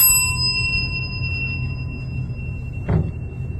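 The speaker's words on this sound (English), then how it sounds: "Let's ring the bell." A doorbell rung once: a clear chime that sounds right away and fades slowly over a low rumble, followed by a dull thump.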